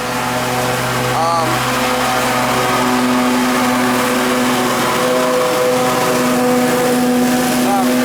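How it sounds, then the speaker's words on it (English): A lawnmower engine runs nearby at a steady, loud droning pitch throughout, its hum continuous with slight shifts in tone, while someone talks over it. "don't mind me with a lawnmower"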